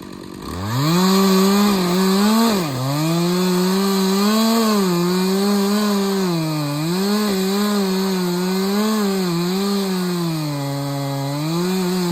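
A Stihl 066 chainsaw cuts through dead, dried-out wood, its loud engine droning continuously close by with the pitch dipping and rising as the chain bites, running alone without voices.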